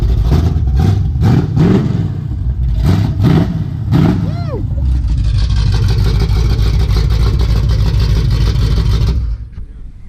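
A turbocharged Coyote V8 in an S197 Ford Mustang revs hard in bursts, then settles into a steady roaring idle, very loud, with a person whooping over it.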